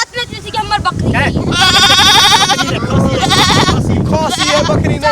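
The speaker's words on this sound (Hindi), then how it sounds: "ये हमर बकरी है" A goat bleats repeatedly with wavering, nasal cries close by, mixed in with people talking loudly throughout.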